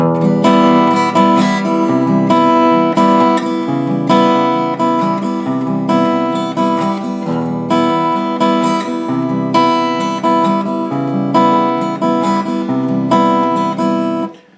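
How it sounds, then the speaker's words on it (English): Electric or acoustic guitar strums the bridge pattern of a song, full chords ringing in a steady, continuous rhythm with repeated accents, loud and close, no voices. "The strumming pattern for the bridge section sounds like this."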